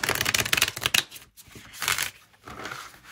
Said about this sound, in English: So you can tell overhand, it's coming up really clumpy.